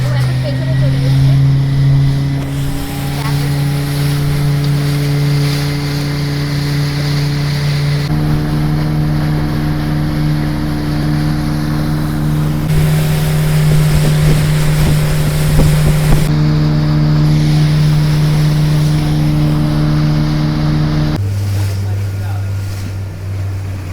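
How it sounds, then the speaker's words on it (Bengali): Motorboat carrying passengers toward Elephant Beach on Havelock Island, its engine droning loud and steady with shifting tones, wind and water rushing past, and voices talking over the noise. "তো অলরেডি আমাদের বোট ছেড়ে দিয়েছে"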